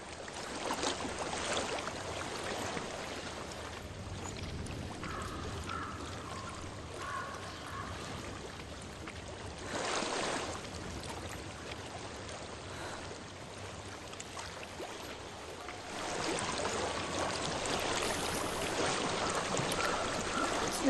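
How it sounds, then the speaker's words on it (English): Flowing water of a stream in the video game Hellblade, a steady broadband rush running throughout with brief louder surges, heard alone with no talk. "I hear water. Go to it."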